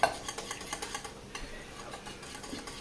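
A whisk beats through cheesy potatoes in a bowl, giving quiet rhythmic tapping and scraping strokes in a quick, fairly even pattern.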